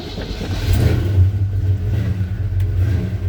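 The engine of a 1984 Chevy truck runs close and loud, a steady low rumble with slight rises in revs throughout.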